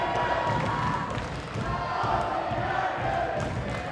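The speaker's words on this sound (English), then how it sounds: "As this PWA faithful crowd comes alive here at Max Watts" A wrestling crowd at Max Watts, a PWA show, roars in a steady, dense wash of cheering and shouting with scattered thumps, with a commentator's voice running over it.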